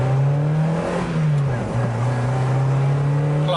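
A Mazda MX5 Miata sports car at full throttle gives a steady, droning engine note heard from inside, holding nearly level with a brief dip.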